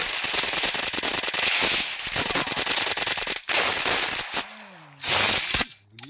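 Loud bursts of rapid automatic gunfire ring out in a video game, firing in long strings broken by short pauses, with a brief warbling tone near the end.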